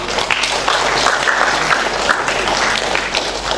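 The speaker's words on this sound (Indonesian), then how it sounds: "Tepuk tangan." Applause at a formal Indonesian ceremony for adopting rules of order, a dense, steady clapping from an audience that holds throughout at an even, fairly loud level with no speech over it.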